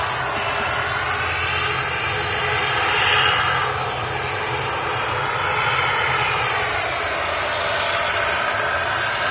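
A passenger jet engine at Manchester Airport roars loudly and steadily for several seconds, swelling slightly in the middle and again toward the end, with no voices over it.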